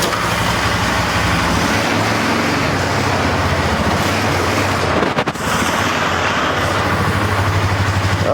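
A salvaged Polaris Sportsman 500 ATV engine runs loud and close while shifted into reverse, a rough, steady pulsing drone with a brief dip midway before it resumes.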